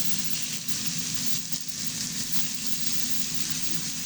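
A homemade hamburger patty fries in a pan of hot oil, giving a continuous close sizzle with crackling and popping and no pauses.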